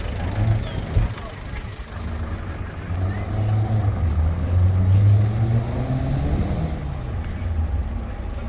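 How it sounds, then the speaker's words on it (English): An old van driving around at a vintage bus rally in Stroud, its engine a steady low rumble that swells and fades as it passes nearby amid general outdoor crowd noise. "An old van driving around"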